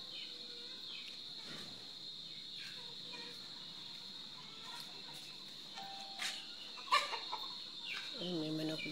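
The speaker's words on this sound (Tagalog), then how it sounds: "Ay, may manok doon." Faint clucking from a chicken outdoors at dusk in Calabanga, Camarines Sur, a few brief calls near the end over a steady high cricket drone, with some distant sounds scattered through.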